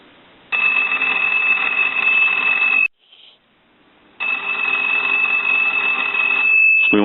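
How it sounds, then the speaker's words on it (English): An old brass and marble table telephone's bell, housed in the pedestal base, rings in two long metallic bursts separated by a brief pause, loud and close. "What we want to do is ring the telephone."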